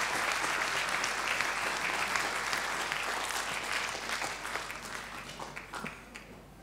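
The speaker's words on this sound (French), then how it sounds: "Ça s'applaudit" Applause at a Vendée Globe sailing press conference, a full roomful of clapping that holds steady, then thins out and fades toward the end.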